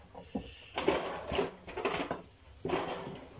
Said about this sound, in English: Going to give that a good stir around.